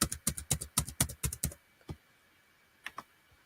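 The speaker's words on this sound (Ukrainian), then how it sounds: "Треба ввести ім'я та номер телефону." Keys tapped on a computer keyboard while entering a name and phone number on a web platform: a quick run of crisp, close clicks for about a second and a half, then a few scattered single taps after a pause.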